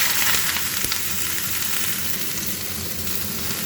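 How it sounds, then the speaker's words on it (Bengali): Potatoes fry in hot oil in a kadai, a loud, steady close-up sizzle with faint stirring clatter, no talking. "তেল গরম হয়ে গেছে, এবার আলুটা দিয়ে দেবো। আলু ভাজা চাপিয়ে দিচ্ছি"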